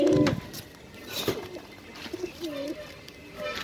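Giribaz pigeons coo in soft, intermittent calls close by, with a brief louder burst at the start and a faint voice in the background.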